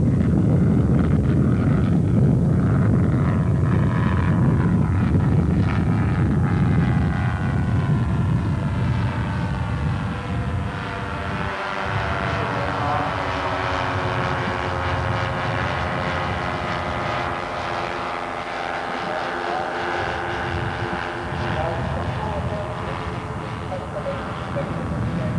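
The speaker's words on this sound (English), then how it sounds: "One of the highlights of the show must have been this monster Lancaster, presented by Powermax and being flown by Ro" A large-scale model Avro Lancaster bomber flies at a 1988 model airplane show, its engines droning steadily and shifting in pitch as it passes, with wind buffeting and a narrator talking over it.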